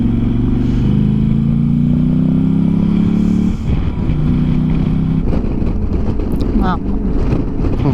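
Heavily loaded motorcycle engine droning steadily through city traffic, loud and close with wind buffeting the microphone, the tone dropping midway then continuing amid surrounding street noise.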